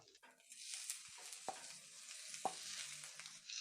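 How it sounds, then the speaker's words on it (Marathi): Washed fenugreek leaves tossed into chutney frying in an iron pan give a soft, steady sizzle, broken by a couple of sharp stirring knocks against the metal. "याच्यात आता आपण स्वच्छ धुतलेली मेथी घालूया"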